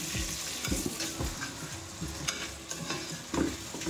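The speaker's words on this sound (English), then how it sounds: "I'm just gonna add in my spices together with the ginger and garlic. Okay, and I'm just gonna stir it all in." Potatoes frying in a pan with spices, ginger and garlic for a broad beans curry, a close, steady sizzle with repeated scraping and clacking stirs, no talking.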